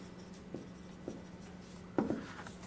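Hand writing a formula: soft pen or marker strokes scratching across a surface in short bursts, quiet and close, with a steady low hum underneath and no talk.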